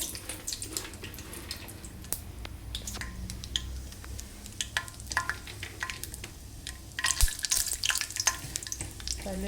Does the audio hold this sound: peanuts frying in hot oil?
yes